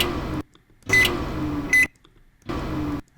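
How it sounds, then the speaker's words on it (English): Microwave oven hums loudly in bursts separated by short silences, with two bright electronic beeps sounding at the start of some bursts. "We got a microwave."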